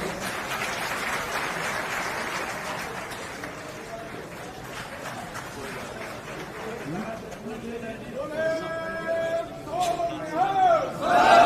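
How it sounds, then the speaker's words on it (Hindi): A crowd at a BSP political rally in Assandh, Haryana claps and cheers, a broad wash of applause with shouts rising louder near the end while someone speaks over a loudspeaker. "तालियों के साथ स्वागत।"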